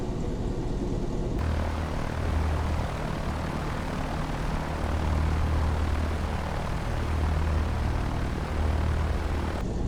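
Piper Cub propeller engine in the X-Plane 12 flight simulator, a steady droning hum at reduced power during the takeoff roll, continuous and fairly loud with no talk.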